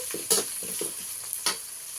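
Sliced onions frying in oil in a pan as a fish curry is started, giving a steady close sizzle with a few sharper bursts as the pieces are stirred, no talking.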